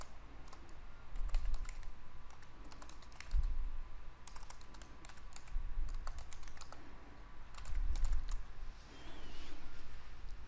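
Steady typing on a computer keyboard, bursts of soft key clicks with brief pauses, close and moderately quiet, with no talking.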